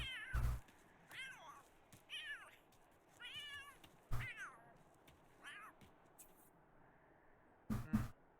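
A pet cat in the survival video game Iron Edge meows repeatedly in short, rising-falling calls, spaced a second or so apart, with a few sharp thumps in between, close and clear with no talking.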